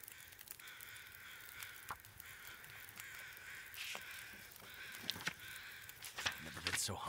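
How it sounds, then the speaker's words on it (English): Crows cawing in the survival video game The Long Dark, several harsh caws scattered at irregular intervals over a soft windy ambience, growing slightly louder and more frequent toward the end. "There are a lot of crows up here"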